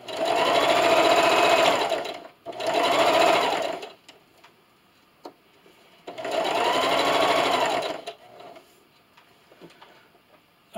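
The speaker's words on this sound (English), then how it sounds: "I'll meet you over at the sewing machine." A sewing machine top-stitches a fleece scarf, running in three steady buzzing bursts of about two seconds each. Between the runs come quiet pauses with a few small clicks and ticks.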